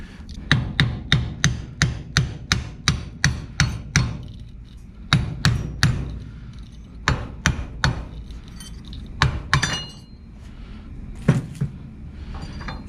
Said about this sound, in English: Then we just tap it off with a hammer